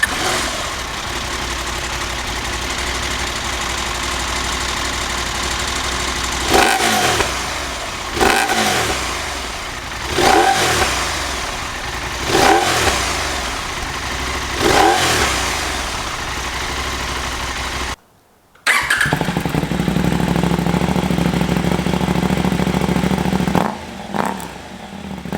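A Norden 901 motorcycle fitted with an Akrapovic slip-on exhaust fires up and idles loudly up close, then gives a series of short throttle blips, each a quick rising rev that falls back to a throaty idle.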